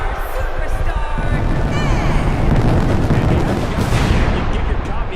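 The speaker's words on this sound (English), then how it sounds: "Jeez Louise, that firework was loud." Pyrotechnic explosions boom during the Rated R Superstar's entrance at a WWE Night of Champions event, a dense, loud roar of blasts blending with a cheering arena crowd throughout.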